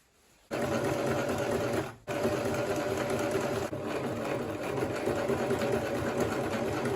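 A sewing machine runs top stitching on a kaftan, starting after a brief quiet, with a short pause midway, then resuming its steady close rapid whirring to the end.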